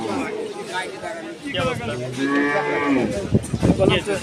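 Cattle low and moo repeatedly at a busy night-time cattle market, long deep calls close by overlapping one another above a murmur of crowd chatter.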